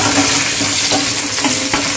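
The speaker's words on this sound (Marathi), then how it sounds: "तर आपण कांदा जो आहे चांगला फ्राय करून घेऊया तेलामध्ये." Onion frying in hot oil for shev bhaji gives a steady, loud, close sizzle, with soft stirring movements running through it.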